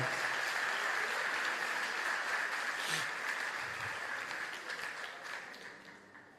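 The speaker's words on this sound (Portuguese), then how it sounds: "Pode aplaudir o Senhor, irmão." Applause from a church congregation fills the space at a fairly steady level, then slowly fades toward the end, with no talk over it.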